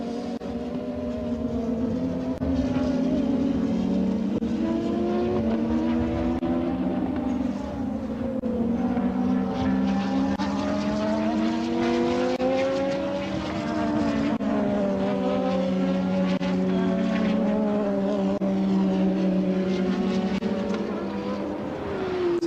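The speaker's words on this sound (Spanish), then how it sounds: "antes de llegar a la mitad de la década no eran sonidos muy agradables los de los autos" 1984 Formula 1 racing cars at the Austrian Grand Prix, their engines droning and rising in pitch continuously and loudly throughout, with shifting harmonic whines as cars pass and change speed.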